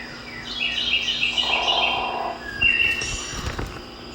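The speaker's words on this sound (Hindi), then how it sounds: "हजारों किलोमीटर की दूर से सैकड़ों हजारों की तादाद में प्रवासी पक्षी यहाँ आकर अपना" Migratory birds call at Lokhandwala lake, with a run of rapid high chirps and twittering, then a sharp whistled note and scattered calls over outdoor background noise, moderately near and with no talk.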